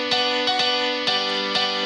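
FL Keys, the stock electric piano plugin in FL Studio, layered under a lead with its hardness raised, plays a short series of bright, rhythmic chord stabs with sustained harmonic tones between the attacks.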